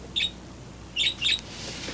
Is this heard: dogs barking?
no